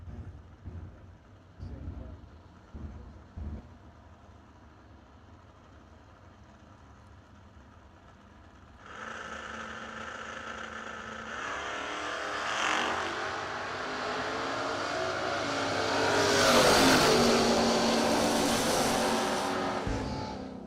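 Drag race cars launch down the strip at a bracket-racing event, the New Year Nationals; after quiet ambience, engine roar swells abruptly and keeps building as the cars pull away, loud and sustained.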